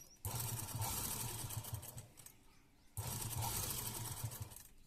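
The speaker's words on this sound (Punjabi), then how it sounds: "ਆਪਾਂ ਵੱਡੇ ਵਖੇ ਨਾਲ ਤਾਂ ਸਲਾਈ ਲਾ ਰਹੇ ਆ" Sewing machine stitching a neck design on a garment, running in two steady bursts of rapid whirring with a short pause between them, close and fairly quiet.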